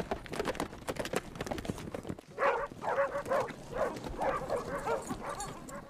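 Several hunting dogs bark and yelp repeatedly at middle distance alongside rhythmic horse hoofbeats on a mounted hunt, with busy, rustling activity around them.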